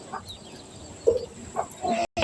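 A pet rooster gives a few short clucks at close range, spaced irregularly over about two seconds against a quiet outdoor background.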